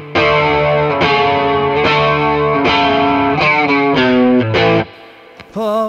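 Squier FSR Classic Vibe 60s Telecaster Thinline electric guitar in Aztec Gold, with a semi-hollow F-hole body, played on the bridge pickup through overdrive. Several sustained, gritty chords ring out one after another and close with a short final stab.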